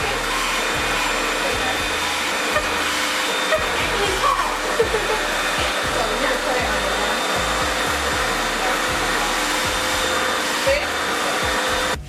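A Revair reverse hair dryer runs continuously with a steady, loud suction whoosh close up, interrupted by small bumps and rustles as hair is drawn in, with a little faint speech.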